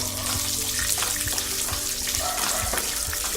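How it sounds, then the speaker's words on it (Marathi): Chana dal, curry leaves and green chili sautéed in hot oil, a dense close sizzle with rhythmic spatula scrapes and knocks repeating against the pan, no talking. "चना डाळ, कढीपत्ता, मिरची चांगली परतून घेऊया."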